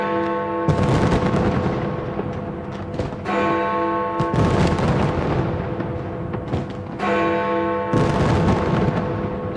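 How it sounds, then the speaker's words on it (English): New Year's Eve fireworks over London burst in loud, dense volleys of booms and crackles, with ringing tones sustained beneath, surging in waves over the whole span. "London's New Year's Eve fireworks"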